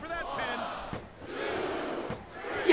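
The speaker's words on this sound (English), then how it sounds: "the crowd has come alive tonight with a chant directed at the superstars" A crowd chants in a wrestling arena in WWE SmackDown vs Raw 2007, a dense, rising and falling roar of voices heard close and fairly loud, with a voice speaking over it.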